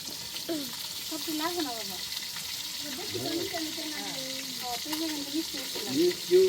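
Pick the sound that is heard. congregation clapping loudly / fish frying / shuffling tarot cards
fish frying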